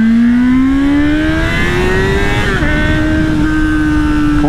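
A Honda Hornet motorcycle engine pulls hard, its loud whine climbing steadily in pitch, then dropping briefly at a gear change before droning on at a higher speed.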